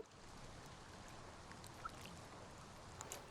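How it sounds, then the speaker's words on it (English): A Spitfire Audio Labs water ambience sample: a quiet, steady hiss of trickling, flowing water, heard alone with no voices. "That one sounds more like water."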